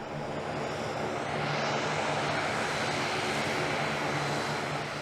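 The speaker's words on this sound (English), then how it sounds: "the aircraft proceeds from one point in an airport to another, like moving to the runway under the operation of its engines" A commercial airplane taxis under its own engine power, a loud, steady broadband roar of engines that swells slightly and holds throughout, with no talk.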